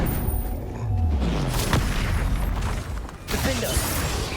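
Booming magical blasts from the Confringo explosion spell in the Hogwarts Legacy video game, dense and loud, with several bursts rolling over a continuous rumble of combat noise.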